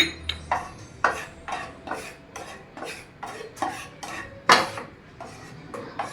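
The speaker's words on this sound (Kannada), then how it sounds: "ಇದನ್ನ ಎರಡು ಸ್ಪೂನ್ ತೊಗೊಂಡಿದ್ದೀನಿ ಇದು ಹುರ್ಕೋಣ ಏನು ತುಪ್ಪ ಗಿಪ್ಪ ಏನು ಹಾಕೋಕೆ ಹೋಗ್ಬೇಡ್ರಿ ಹಂಗೆ ಹುರ್ಕರಿ" Fine semolina (rava) being dry-roasted in a pan without ghee, stirred with a metal spoon: repeated clinking scrapes against the pan at a steady rhythm, close and clear, with no talk.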